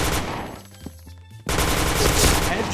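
Automatic gunfire in Insurgency: Sandstorm, loud rapid bursts that drop away briefly into a quieter metallic pause, then resume as a dense, close volley.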